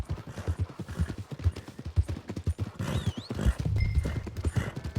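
Steady clip-clop of horse hooves at a walking pace in Red Dead Redemption 2, close by, with a brief whinny-like tone and faint background ambience.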